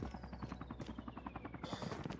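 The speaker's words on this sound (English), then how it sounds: "I hear a helicopter. Is that our teammate?" Helicopter in the Call of Duty Mobile battle royale game, a rapid rhythmic rotor chop with a steady whine, fairly close and faint overall, with no talk.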